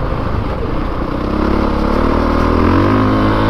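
A 2022 Honda CRF450RX dirt bike engine roars loud and close with a steady, throaty drone that climbs slightly in pitch as it revs.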